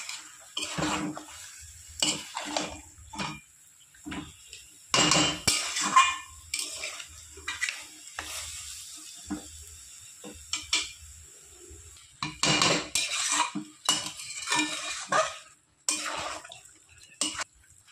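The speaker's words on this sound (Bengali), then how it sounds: "বারবার এরকম নেড়ে চেড়ে আমি কষিয়ে নেব যাতে নিচে না ধরে যায়" Chicken being stirred in a pan with no oil, with repeated scraping and clinking of a spoon against the pan in irregular bursts separated by short quiet gaps.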